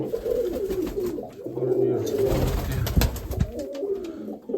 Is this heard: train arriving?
no